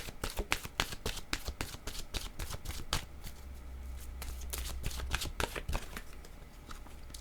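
Oracle cards being shuffled for a tarot reading make a quick series of close, crisp riffles and flutters with brief pauses between bursts, fairly quiet and with no talking.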